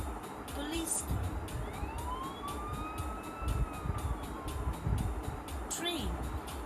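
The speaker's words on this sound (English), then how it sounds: "police car." A police car siren sounds on a road among traffic. It sweeps in long, slow rising and falling tones over a rough background of engine and street noise.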